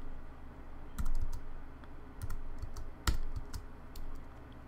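Keys clatter on a computer keyboard while code is typed, arriving in short close bursts of rapid clicks separated by brief pauses.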